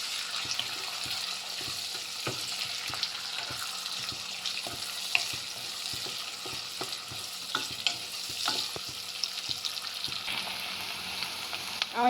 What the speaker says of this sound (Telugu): కొంచెం ఆనియన్స్ ఫ్రై అవ్వడానికి సాల్ట్ వేసానండి